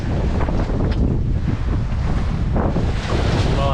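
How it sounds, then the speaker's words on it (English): Wind and breaking sea waves rush loudly and steadily around a 1976 Cape Dory 25 sailboat on a solo sea trial offshore, a continuous roar of gusts and surf with no voices. "look at these waves"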